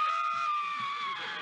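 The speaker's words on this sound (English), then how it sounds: "Let's scream." Several people on a TV studio panel show scream together in a sustained, shrill, held cry lasting over a second, loud and close, with no speech over it.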